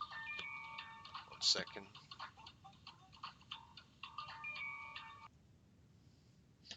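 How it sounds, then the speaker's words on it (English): A mobile phone rings indoors with a repeating electronic ringtone pattern, fairly faint and steady for about five seconds before it stops. A voice speaks briefly over it. "My phone decided to ring at this time."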